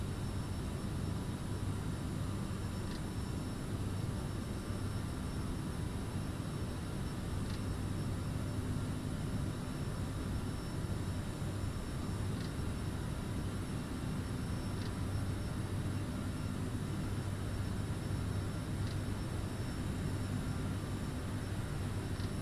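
A CRJ-700 regional jet climbs in a flight simulator, giving a steady, even engine drone with constant broadband rush and a low hum, unchanging throughout with no talk.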